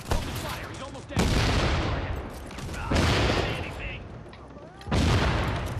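Gunfire in Tom Clancy's The Division, with three loud bursts of rapid shots, each lasting a second or more and separated by short gaps under a continuous game soundscape.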